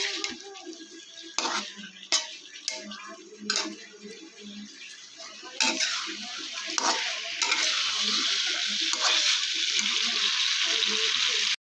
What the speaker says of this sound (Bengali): এই আলু আর ইঁচড় দিয়ে দিলাম, দিয়ে কিছুক্ষণ কষিয়ে নেব।